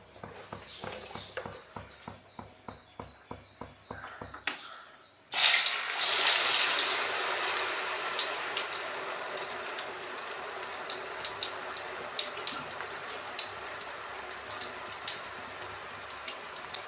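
Pieces of tapioca drop into hot oil after a series of rhythmic tapping strokes, then a sudden loud sizzle bursts out and settles into continuous close crackling and popping frying.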